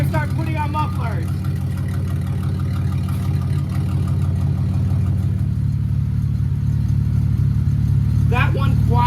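Mercedes C32 AMG engine idling through a custom exhaust with a muffler fitted, a steady deep rumble close by, with someone talking briefly at the start and end.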